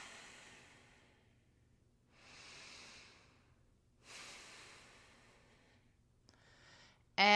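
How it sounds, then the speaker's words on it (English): Soft, close sniffing breaths drawn in through the nose, two or three slow hissing inhales separated by quiet pauses, then a sudden loud burst at the very end. "Couple sniff in breaths."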